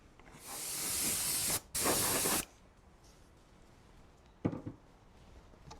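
Spray can laying a coat of 4051 onto the inside of a Kyosho Beetle RC car body, two close loud hissing bursts of about a second each, followed by quieter handling noises.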